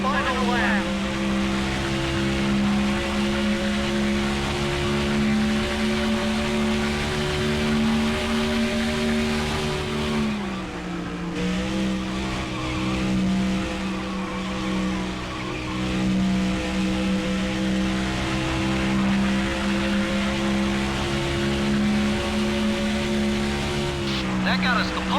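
A NASCAR stock car engine screams steadily through a final qualifying lap in NASCAR Thunder 2004, loud and continuous, with a brief pitch dip for a corner before it climbs back to full revs.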